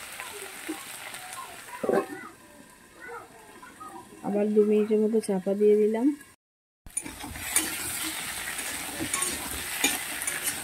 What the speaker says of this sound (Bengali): আলু অনেকটাই ভাজা হয়ে গেছে।